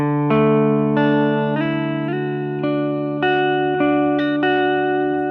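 An electric guitar plays a short riff through a captured Vox AC30 amp model in TONEX, a handful of ringing chords struck about once a second, loud and close with no talking.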